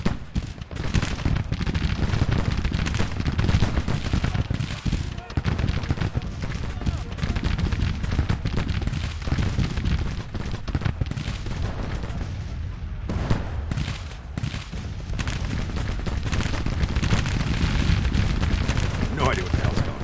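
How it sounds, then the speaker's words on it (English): Musket volleys from Civil War infantry in the strategy game Grand Tactician: The Civil War, heard as a dense, continuous crackle of rifle fire with heavy booms rolling through, while someone talks over the battle. "Firing into them, boys."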